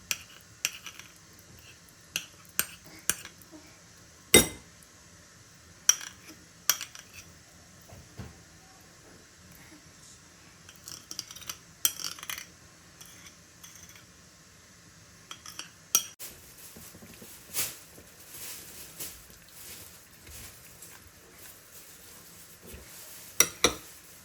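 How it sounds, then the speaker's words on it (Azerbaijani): Utensils clink sharply and intermittently against a bowl while a tomato and cucumber salad is tossed with sauce, isolated close ticks and taps over a quiet background. "sosu istediğim kıvama gelenden sonra salata əlavə edib qarışdırıram"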